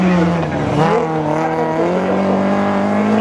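A race car at a slalom event in Lessay roars past nearby, its engine note climbing and shifting as it passes, loud and continuous, with a commentator talking over it.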